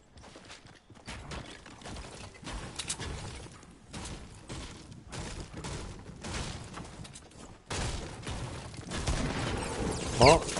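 Gunfire in the battle-royale game Fortnite, scattered shots and bursts crackling at varying distances across a busy stretch of game audio, with one sharper, louder burst near the end.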